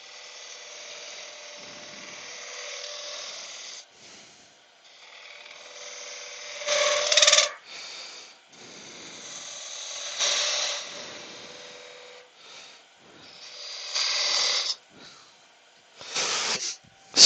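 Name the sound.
spindle gouge cutting wood on a lathe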